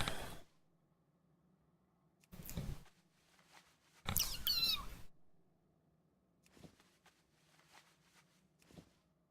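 A cat being stroked gives a few scattered meows and chirps, one longer rising cry standing out among quieter short calls over a faint low hum.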